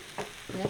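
Snake gourd sizzling and crackling in a hot pan, in two short bursts close by, with no voices.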